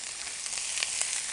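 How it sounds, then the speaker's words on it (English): Red, yellow and green sweet peppers sizzle steadily in hot oil in a skillet, a close, continuous crackling hiss with no talking. "It's going to start sizzling as soon as I put it in."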